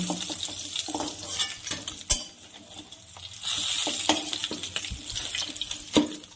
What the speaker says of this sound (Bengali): বাকি মাছগুলোকেও ভেজে নিচ্ছি একইভাবে